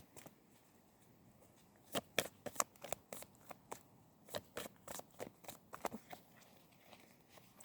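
Oracle cards being shuffled by hand, a close, soft run of quick papery riffles and slaps that starts after a quiet second and continues in irregular bursts to the end, with no talking.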